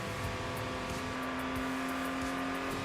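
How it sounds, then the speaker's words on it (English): Boxer engine in the Enthusia Professional Racing video game, a steady droning hum with a clear tonal note, heard moderately loud and continuous with no talk. "I love boxer engine sound."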